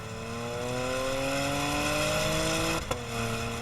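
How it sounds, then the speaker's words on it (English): 2016 Porsche Macan S with all-wheel drive under throttle in sport mode, its exhaust note rising steadily as the engine revs climb, then a brief break as it shifts gear, loud and close. "with the windows down, you really hear that signature Porsche sound"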